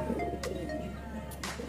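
A racing pigeon from a champion line coos softly and close by, a low steady murmur broken by a couple of brief rustling flutters.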